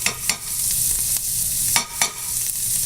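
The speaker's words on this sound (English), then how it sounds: "So I'm going to put 2 tablespoons of lemon juice in here." Lemon juice poured into a hot pan for a lemon caper sauce with schnitzel sizzles steadily and close. A few sharper hissing bursts rise over the continuous frying crackle.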